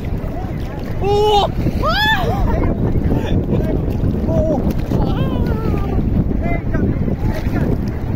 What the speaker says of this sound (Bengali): প্রবল ঢেউয়ের মাঝে হারিয়ে যাবো হয়তো আজকে।